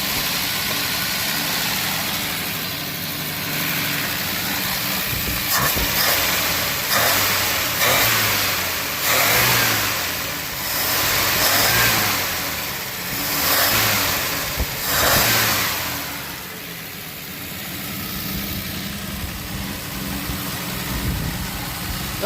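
A 1968 Plymouth Valiant, sitting unused for 24 years, cranks and catches, then runs rough, its engine revved in several rising and falling surges over a loud, uneven idle, close by with no talking.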